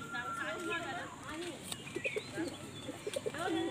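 Short-bodied white pigeons with pearl eyes, a paired male and female, cooing in soft repeated throaty bursts close by while someone talks over them.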